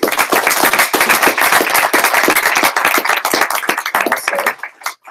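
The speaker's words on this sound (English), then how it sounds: "Let's just give them a round of applause." A round of applause from a panel audience at a quantum computing event, sharp distinct claps in a fast irregular patter from a small, close crowd, loud and sustained before thinning out and stopping near the end.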